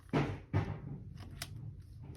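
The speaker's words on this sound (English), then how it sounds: "my cat did just knock over a small pumpkin" Two quick hollow knocks as a cat knocks over a small pumpkin, which topples and thuds onto a hard surface, followed by faint rustling in a quiet room.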